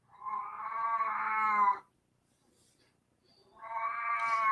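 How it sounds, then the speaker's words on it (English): A cat lets out two long, loud, drawn-out meows close by, separated by a short quiet pause, with no talk over them. "Oh, that cat. That cat. Oh, that cat."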